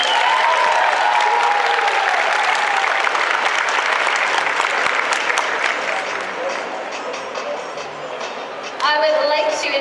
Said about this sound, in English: Let's have a round of applause for History.